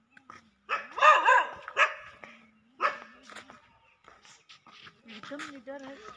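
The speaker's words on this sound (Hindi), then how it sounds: "कुत्ता काटेगा।" A dog barks near a hilltop Shiv temple at Dholbaha in Punjab, a few close, sharp barks and yips mixed with people talking nearby.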